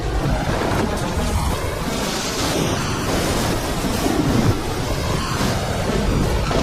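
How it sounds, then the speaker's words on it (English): Cyclone Ida's winds roar at landfall, a dense, continuous wall of rushing, buffeting noise that stays loud and unbroken throughout. "The wind tears through town."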